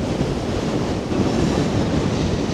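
Loud, steady rush of sea waves breaking nearby on Norderney island, Germany, blended with wind rumbling against the microphone, with no one speaking.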